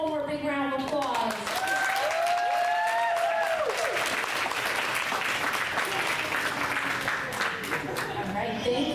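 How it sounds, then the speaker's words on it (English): An audience at a school board meeting gives a third grade class a long, steady round of applause, with a voice talking briefly at the start before the clapping carries on alone. "Let's give them one more big round of applause."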